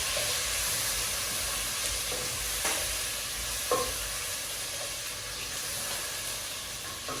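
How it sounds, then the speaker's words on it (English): Tomatoes stirred in a hot frying pan while cooking fish, a constant hiss of sizzling with a few soft spoon scrapes and clinks against the pan, no talk. "So this is where we add our tomatoes. Then we stir."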